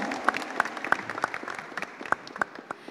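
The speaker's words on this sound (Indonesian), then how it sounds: "rcos Manurung selaku promotor Summer Fights, tepuk tangannya dong." Scattered applause from a small group at a combat-sports weigh-in and press conference, a handful of loud, distinct claps in an irregular rhythm over quieter background clapping, fairly close.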